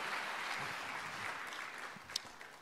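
A congregation applauds steadily during an online church worship service, a dense even wash of clapping that holds for the whole stretch, with a few sharper claps standing out near the end.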